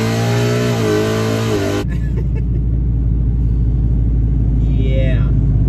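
Supercharged Mustang launching hard on ET Street R drag radials, a loud close engine roar that rises and keeps building under faint talk.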